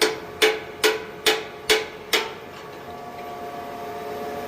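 Metal hammer strikes on a tractor track pin, six sharp ringing taps at a steady pace that then stop, leaving a low machine hum and faint background noise.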